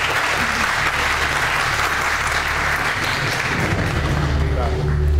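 Studio audience applauding on the Persian pantomime game show Pantoleague, a dense, steady roar of clapping that stays loud and even throughout with no pauses.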